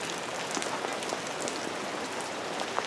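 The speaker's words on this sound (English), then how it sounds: "It's raining like crazy." Heavy rain pours steadily outside an asylum, a dense, even hiss of drops striking surfaces close by with no voices, continuous for the whole stretch.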